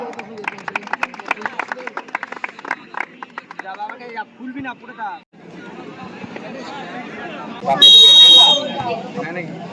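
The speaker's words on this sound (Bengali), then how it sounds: "একটা জোরে করতালি হয়ে যাক" Spectators at a local football tournament clap in a burst of scattered applause, followed by crowd babble, an amplified announcer's voice and a brief loud buzz.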